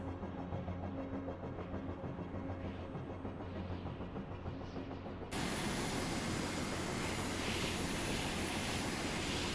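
Aircraft engine drone from the video game Carrier Command 2, a steady low mechanical roar that steps up abruptly to a louder, fuller rush partway through, with no talk.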